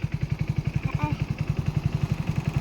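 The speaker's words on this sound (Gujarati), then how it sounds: "બાઇક ચાલુ કરી નાખી છે અવાજ આવે છે બાઇકનો" A motorcycle engine idles nearby with a steady, rapid thumping pulse, running continuously throughout.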